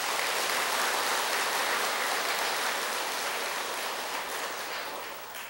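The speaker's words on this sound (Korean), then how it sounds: "봉사자들에게도 박수 한번 보내주세요." A crowd at a Buddhist temple gathering claps for the volunteers, sustained thick applause that holds steady, then slowly tapers near the end.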